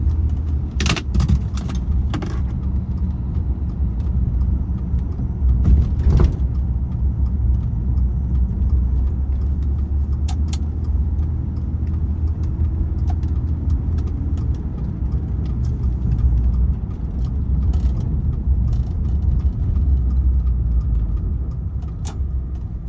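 1978 Daimler Sovereign 4.2 Coupe XJC on the move, heard from inside as a steady low engine rumble and road noise, with occasional clicks and rattles over about twenty seconds.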